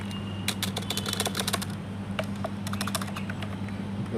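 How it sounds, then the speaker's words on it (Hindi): Keys clatter on a Prodot keyboard in quick, uneven bursts of close, crisp clicks over a steady low hum, with brief pauses between runs. "इसकी टाइपिंग की जो साउंड है वो सुना देता हूँ मैं आपको।"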